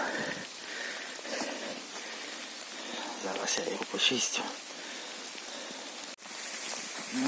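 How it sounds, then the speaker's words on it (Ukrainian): Steady rain falling through a forest during mushroom picking, a constant hiss of drops on leaves with a person talking briefly over it and some handling noises nearby. "Дощик у нас підсилився, але це нас не зупиняє."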